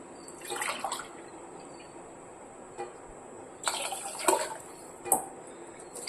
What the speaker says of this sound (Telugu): ఒక రెండు మూడు సార్లు కడిగితే సరిపోతుంది బియ్యం